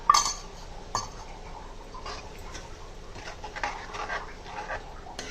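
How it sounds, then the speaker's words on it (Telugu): In a cooking pot, a spoon stirs chili powder, jaggery, salt and turmeric into chopped vegetables for sambar rice, giving soft, close scrapes and occasional light metallic clinks, quiet and irregular with no talk. "అవన్నీ దీంట్లో వేసేద్దాం. ఇవన్నీ బాగా ముక్కలు పట్టేటట్టుగా కలుపుకుందామండి."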